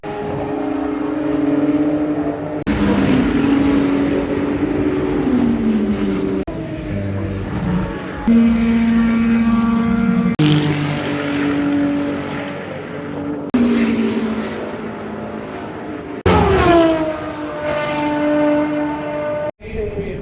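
Several hypercars race past one after another during WEC qualifying at Spa-Francorchamps, engine pitch sweeping down as each passes, loud and continuous with brief gaps between.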